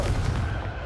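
A short booming blast from the Confringo fire spell in the video game Hogwarts Legacy, a single loud, deep burst that fades quickly.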